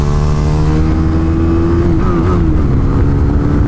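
A small RC motorcycle runs on a track with a loud, steady buzzing engine drone and a brief pitch wobble partway through, close by and continuous.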